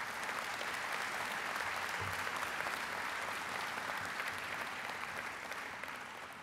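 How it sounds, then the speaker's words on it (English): A large audience at a university presidential inauguration applauds the Archbishop in a continuous, even roar of clapping that stays at a moderate level and fades slightly near the end. "So please give him a big round of applause."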